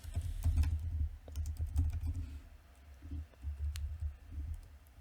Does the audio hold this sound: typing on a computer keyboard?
yes